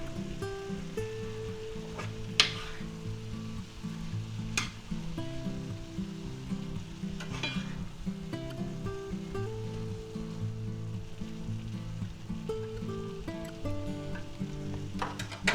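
Green onions stirred into sausage and egg frying in a pan, with a soft steady sizzle and occasional spoon scrapes. A low background hum runs throughout, and no one talks.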